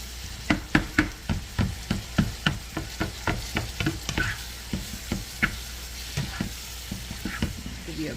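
Onions and vegetables fry in melting butter, a steady sizzle broken by a quick regular series of scraping stirs close by, with no talking.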